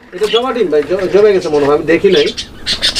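Danish, King and Giribaz fancy pigeons coo in a coop holding a nesting pair with eggs, a close, throaty, warbling series of repeated coos.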